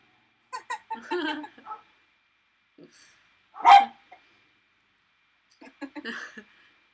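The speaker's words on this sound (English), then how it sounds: "It's a fox they're barking at." A dog barks at a fox in a garden in short bursts, a quick volley, a single sharp bark, then another volley, with quiet gaps between.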